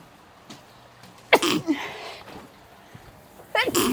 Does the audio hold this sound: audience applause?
no